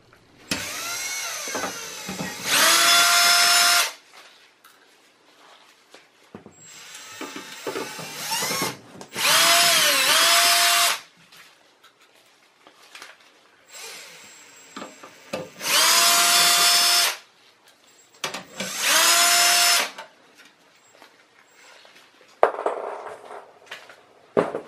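A power screwdriver removes four screws from the power supply of a Lenovo ThinkCentre desktop computer, four loud whirring bursts of a few seconds each, each with a rising pitch at the start, separated by quieter handling clicks.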